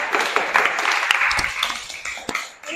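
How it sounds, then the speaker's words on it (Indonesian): A school class claps after a floor gymnastics backward roll presentation, a short burst of scattered, uneven hand claps from a small group, some sharp individual claps standing out as the applause trails off. "tepuk tangan dulu semua"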